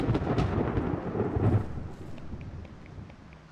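Steady rain with a low thunderous rumble in a video game, loud at first and then fading to a softer patter.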